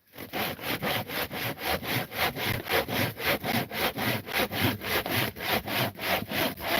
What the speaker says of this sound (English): I should do just a sawing video, just sawing, no talking.